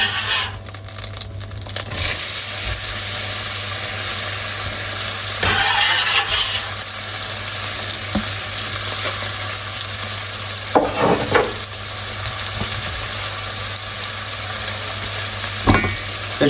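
Onions sizzling in melted butter in a pan, a steady bright frying hiss with occasional stirring clatter and utensil knocks, close and alone without voices.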